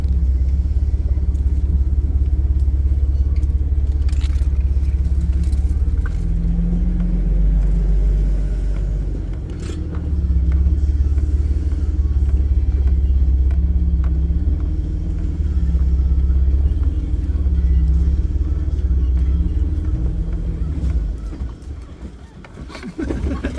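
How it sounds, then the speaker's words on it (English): An off-road vehicle crawls over big rocks, its engine a heavy low rumble that surges and fades as it climbs, with scattered knocks and scrapes and a throttle rise near the end. "He drove over that big rock."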